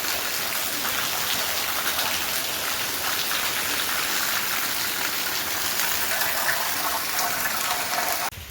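Heavy rain pours down in a steady, loud, unbroken hiss that lasts throughout, with no voices over it.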